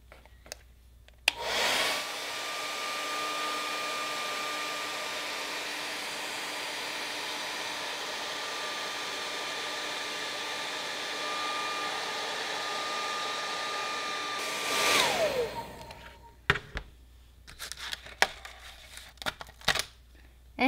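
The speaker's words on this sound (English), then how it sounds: "now we will apply our heat again to the seam for 30 seconds" A heat gun blows steadily on a glued Delrin plastic seam, a loud, even whirring hiss that runs for about thirteen seconds after a click, then cuts off and is followed by handling clicks and rustles.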